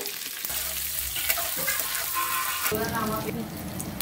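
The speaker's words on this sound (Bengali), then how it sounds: "কাটা পেঁয়াজটাকে এর মধ্যে দিয়ে একটু নাড়াচাড়া করে ভেজে নেব" Steady sizzling of chopped onions stir-frying in a pan for chili paneer, with occasional stirring scrapes, close and continuous, with a brief low hum near the start.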